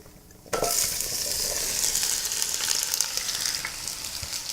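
Onions dropped into a hot pot start frying with a sudden loud burst of sizzle that then holds as a steady crackling hiss, close up, with no one speaking.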